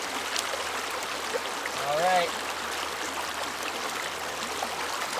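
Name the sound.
water rolling through a gold prospecting setup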